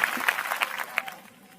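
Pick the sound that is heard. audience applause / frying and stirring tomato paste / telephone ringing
audience applause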